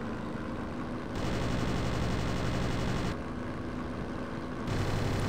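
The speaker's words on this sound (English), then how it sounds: "Aim your guns at that box and you will shoot down the enemy" Rapid, steady machine-gun fire from an aircraft in the WarBirds combat flight game, sustained bursts over a constant engine drone, with brief pauses between the loud strings of shots.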